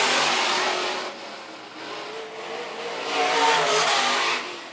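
Sport mod race cars roar around the dirt track at Phillips County Raceway in a loud, dense engine wash that swells and fades as the pack passes, with no voices.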